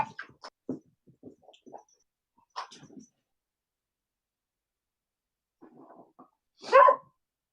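A dog gives one loud, close bark near the end, after scattered quieter knocks and shuffles in an otherwise hushed room.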